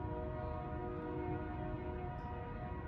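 Train passing in North Fort Worth with its horn sounding, a steady loud rumble and sustained tonal blare filling the whole stretch, no voices.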